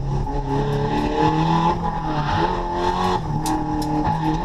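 A race car spinning out on a track day with a fresh tune and extra power: a loud, strained engine drone with shifting revs, plus brief high squeals near the end.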